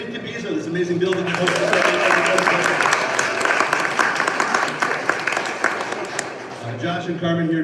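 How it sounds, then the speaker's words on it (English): A live audience bursts into sustained, dense applause at a community entrepreneur meeting held in the Incubizo building, with a few voices mixed in near the start and end. "A round of applause for Incubizo, this amazing building."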